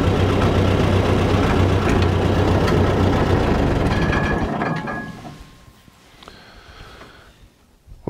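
An Allis-Chalmers Model D motor grader runs in gear with a steady, loud engine drone and mechanical clatter that fades down over several seconds to a quieter idle, with faint rattles and whines near the end.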